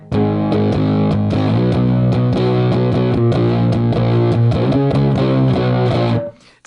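An electric guitar played through a clean boost into an overdriven Viper Champ amplifier gives a thick, compressed, woolly distorted riff on the low strings, loud and close, with a final chord cut short at the end.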